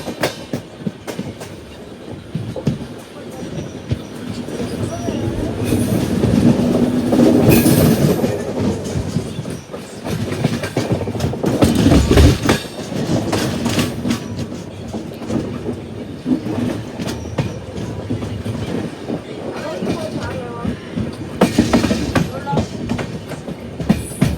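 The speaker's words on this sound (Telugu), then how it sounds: "మళ్ళీ మన ట్రైన్ వెళ్ళిపోయి సింగిల్ ట్రాక్లోకి కలుస్తుంది." A passenger special express train running on railway track heading toward a single-line section, loud continuous rumble and clickety-clack of wheels close by, with faint occasional voices beneath.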